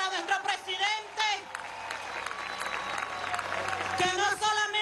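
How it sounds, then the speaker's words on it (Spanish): A crowd at an event with the president applauds, with sustained clapping and cheering under and between a voice speaking over a loudspeaker. "Ese aplauso para nuestro presidente"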